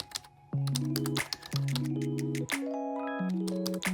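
Quick clicks of typing on a computer keyboard, close and crisp, mixed with soft bell-like interface chimes in stepped tones.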